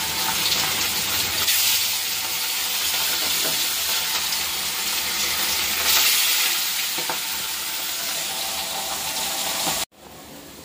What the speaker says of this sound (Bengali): কড়াটাও বসিয়ে দিয়েছি আমি, এখন মাছটা ভেজে নেব।